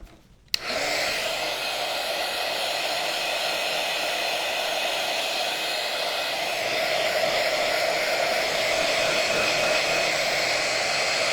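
A hair dryer blows steadily over glue on a rustic craft snowman, a loud continuous whirring airflow that starts abruptly and holds even and close for about eleven seconds with no talking.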